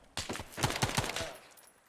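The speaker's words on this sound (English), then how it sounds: "There's somebody firing on the west wall here." Burst of rapid gunfire in the military shooter Arma 3 (S.O.G. Prairie Fire), several sharp shots in quick succession at moderate distance, fading into a short tail.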